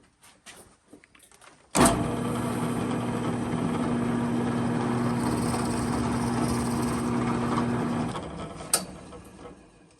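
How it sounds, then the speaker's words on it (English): A steady drill press drone with a constant hum starts abruptly, drilling a hole for several seconds, then winds down; a brief click follows near the end. "let's try drilling our first hole"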